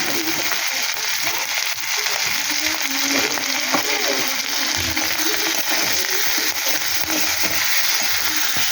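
Dried fish (shutki) frying in a pan with oil and salt, a continuous dense crackling sizzle at close range with no talk.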